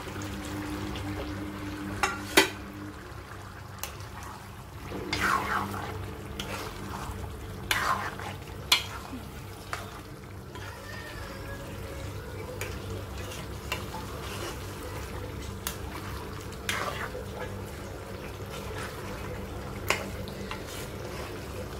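Cubed potatoes frying in a pan for aloo keema, stirred now and then with a spoon that scrapes and clinks against the metal. A steady sizzle runs underneath throughout.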